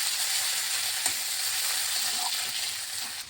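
Chopped ginger and green chili fry in hot oil in a pan, a close, loud, steady sizzle with faint stirring clinks and no talking.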